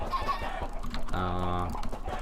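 Chickens cluck on a crowded in-game chicken farm on a multiplayer video game server, a few short clucking calls rising over a steady background of game noise and faint voice-like sounds.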